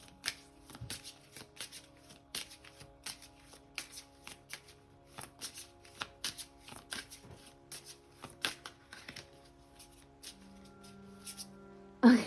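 Tarot cards are shuffled and drawn close up, a run of crisp riffling flicks and taps in an irregular rhythm over a faint hum, ending with a louder knock, and no one talks.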